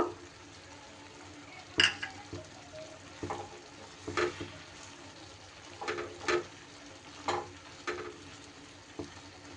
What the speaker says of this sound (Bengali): হালকা হাতে মশলাটা আমি কিন্তু মিশিয়ে দেব।